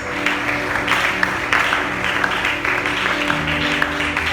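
Church congregation applauding and acclaiming Jesus during a worship service, steady dense clapping from a large crowd over sustained music, with no words spoken.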